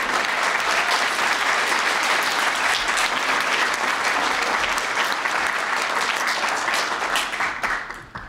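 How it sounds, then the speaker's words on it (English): An audience gives sustained applause for teachers at a school poster competition event, a dense, steady wash of clapping that fades near the end. "I'd like to a round of applause from everyone for our teachers here."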